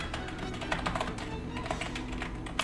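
Keystrokes on a computer keyboard entering a room name in an online chess game, a steady run of light clicking taps over a busy game background with no talk.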